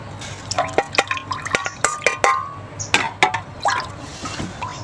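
Eggplant seeds and water are poured into a container, making close, irregular splashes and drips of liquid with no talk.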